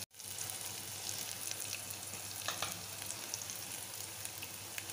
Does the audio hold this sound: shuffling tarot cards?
no